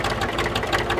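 A tandem tractor, two tractors joined together, idles at a parade in Degeberga, giving a loud, steady, throbbing engine chug with a regular low pulse.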